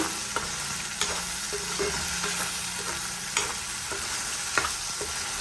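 Egg curry masala frying and being stirred in a pan: a steady close sizzle with regular soft scrapes of a spoon against the pan every second or so, no voices.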